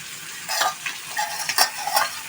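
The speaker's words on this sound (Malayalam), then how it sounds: "അയില മീൻ വറുക്കായിട്ടേക്കണം." Mackerel frying in a pan, with a steady, fairly quiet sizzle broken by several sharp bursts of spitting oil and the scrape of stirring. No voices are heard.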